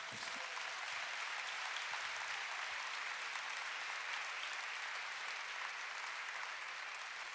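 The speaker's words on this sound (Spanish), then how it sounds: "Dele palmas al Señor" A church congregation applauds during a sermon, a faint but continuous, even wash of many hands clapping from a distance, with no voices over it.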